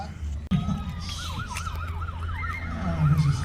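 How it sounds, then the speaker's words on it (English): An ambulance siren wails in a steady rising-and-falling pattern at moderate distance, heard over crowd and wind noise at an outdoor airshow. "They've got the ambulance out there."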